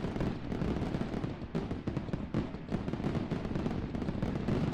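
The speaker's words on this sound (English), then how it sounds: "We have fireworks." Fireworks play as a stream raid alert effect, a dense continuous barrage of crackling pops and bangs at fairly low level, with no voices over it.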